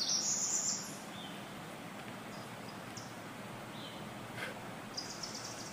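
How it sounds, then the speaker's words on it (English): A yellow warbler sings a short, high, bright phrase at the start, then faint scattered chirps follow over steady outdoor background noise, with the bird sounding moderately distant. "Yellow warbler. So now he's starting to sing a little louder."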